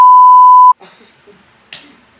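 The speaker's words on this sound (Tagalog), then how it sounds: "Beep!" A loud, steady censor beep tone sounds alone for under a second and cuts off abruptly, followed by quiet rustling and a brief sharp click.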